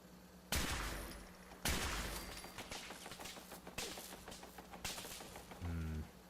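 Gunfire from enemies in Fallout 4, a Mr. Handy turret firing during a firefight: several sharp loud bursts spaced apart, with rapid crackling shots and a steady mechanical hum between them.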